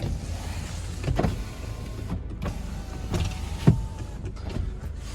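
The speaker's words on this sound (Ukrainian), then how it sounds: "Вікна у нас йдуть всі із доводчиками" Power windows on a Ford Kuga Titanium 2.0 TDCi 4x4 running up and down, several whirring electric motor strokes each ending in a thud as the glass seats, close inside the cabin with no voices.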